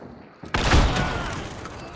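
The Terminus shotgun in the video game Hunt: Showdown fires a single loud, close blast that booms and then trails off into a lingering rumble.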